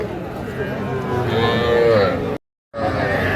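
A cow moos in a long drawn-out call at a Dhaka cattle farm selling young bulls and heifer calves, with other livestock noise around it, then a brief cut to silence before the barn sounds return.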